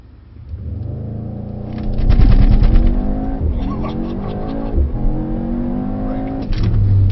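A Mercedes-AMG GT63S launches hard from a standstill on a track, its engine surging from idle into a loud, close roar with tire noise as it accelerates, then revving through gear changes.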